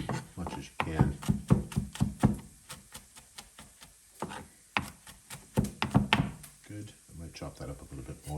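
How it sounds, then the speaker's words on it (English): Garlic is chopped roughly on a wooden board, with a rapid series of close knife thunks in uneven bursts while a person keeps talking throughout. "I'm going to come and chop up my garlic."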